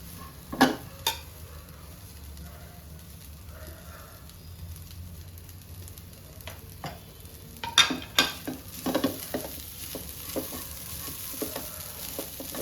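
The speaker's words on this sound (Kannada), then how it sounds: "ಈಗ ಇದೇ ಬಾಣಲೆಯಲ್ಲಿ ತುರಿದಿಟ್ಕೊಂಡಿರೋ ಕೊಬ್ಬರಿನ ಹಾಕಿ ಸಣ್ಣ ಉರಿ ಮೇಲೆ ಫ್ರೈ ಮಾಡಬೇಕು" Grated coconut dry-frying in a pan over low heat, a quiet soft sizzle with scraping stirs and a few sharp clinks of a spoon against the pan, louder toward the end.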